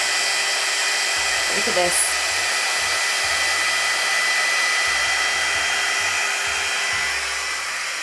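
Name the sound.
hair-drying straightener blowing air while styling hair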